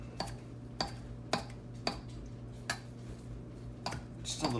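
A knife roughly chopping half a cup of dry cilantro on a cutting board, with about ten sharp, irregular knocks spaced roughly half a second apart over a steady low kitchen hum.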